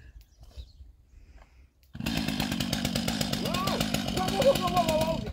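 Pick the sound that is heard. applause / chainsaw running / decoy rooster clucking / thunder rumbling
chainsaw running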